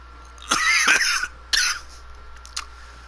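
Two harsh, close coughs in quick succession, then a faint small throat sound, with no talking.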